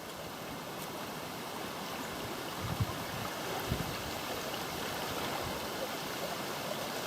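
Water from Fairy Bower Falls rushes in a steady, even wash at moderate distance, with a couple of faint knocks over the continuous flow and no voices.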